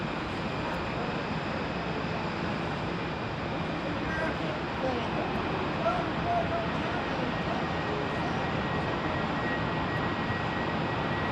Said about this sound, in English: An A319 going to Tucson, American Airlines.